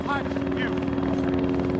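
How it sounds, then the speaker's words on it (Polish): A helicopter circles overhead in the military game Arma 3, a steady throbbing rotor drone that holds loud and constant throughout, with voices chattering over it. "Ten jebany helikopter krąży tu kurwa już z 15 minut."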